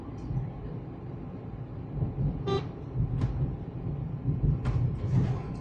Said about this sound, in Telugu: మీకు కనిపించేంత వరకు మరీ హార్న్ యూస్ చేయొచ్చు ఇంకోసారి